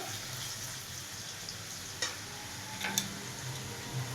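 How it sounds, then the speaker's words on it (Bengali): Potatoes with salt fry in a pan with a steady broadband sizzle, while a utensil stirs them and scrapes the pan in a few brief knocks. "দিয়ে এবার একটু নাড়াবো, লাল লাল করে আলুটা ভাজবো।"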